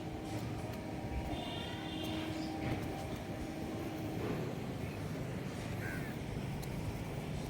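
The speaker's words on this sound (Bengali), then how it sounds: "আশা করি শুনতে পাচ্ছেন, ট্রেনের আওয়াজ হলো।" A train passes near a residential flat close to Baghajatin station in Kolkata, a low distant rumble beneath crows cawing and general outdoor ambience.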